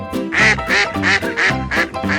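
A duck quacks six times in a quick, steady rhythm, each quack loud, nasal and close, at a pond in Beverly Hills, Los Angeles.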